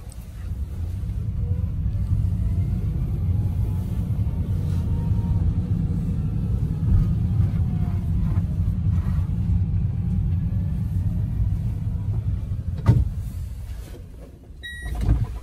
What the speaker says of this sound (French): on entend à peine le bruit du variateur électrique